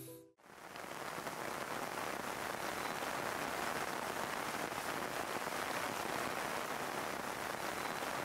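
A steady hiss of light drizzle falling outdoors on a mountain hike, even and continuous after a brief silent gap at the start, with no voices.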